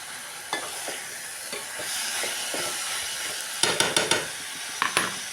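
Onions and tomatoes sauté in a pan with a steady sizzling hiss, broken by a few scraping stirs of the spoon and a quick cluster of clinks near the end; close and fairly quiet, with no voices.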